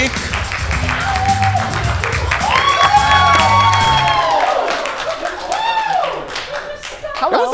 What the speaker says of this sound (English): That was like a late surge of clapping there.